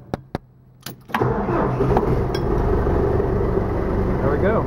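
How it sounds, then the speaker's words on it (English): A few sharp clicks, then a John Deere tractor engine cranks and catches after a blown F1 fuse is replaced, settling into a steady, loud rumbling idle close by. "now try to start the engine."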